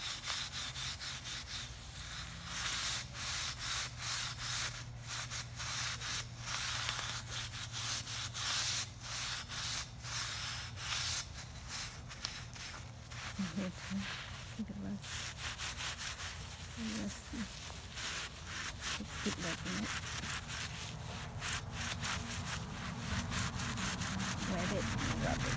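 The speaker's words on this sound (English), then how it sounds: "Rub this with soap and steel wool." Soap and steel wool scrubbed across a rusty chrome metal storage rack, a steady rasping rub repeating in quick strokes, close and continuous over faint background hum.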